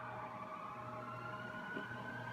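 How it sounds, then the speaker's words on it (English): Emergency vehicle sirens passing outside, a faint, steady wailing tone held low in the background with a constant hum beneath, no talking. "Hold for sirens."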